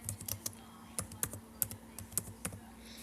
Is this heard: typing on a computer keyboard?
yes